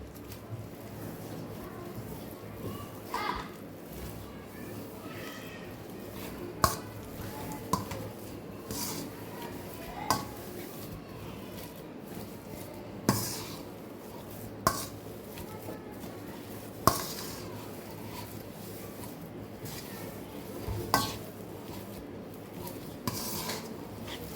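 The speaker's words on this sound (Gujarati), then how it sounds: "તો બટેટાને આપણે એકદમ સરસ છૂંદો કરી લેવાનો છે।" Boiled potatoes for farali thepla are mashed by hand, giving soft, faint squishing and scraping with occasional sharper taps against the bowl, spaced irregularly over a quiet background.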